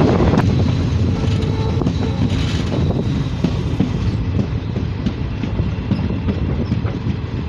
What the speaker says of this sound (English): Now enjoy the track sounds and the scenery.